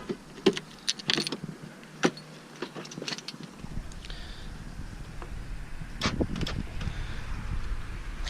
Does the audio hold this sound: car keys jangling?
yes